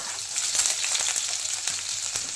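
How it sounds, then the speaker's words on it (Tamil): Mustard seeds and onion frying in hot oil for a fish curry give a steady, close sizzle with faint crackles and light pops throughout. "ஒரு 1/4 டீஸ்பூன் கடுகு போட்டுக்கோங்க."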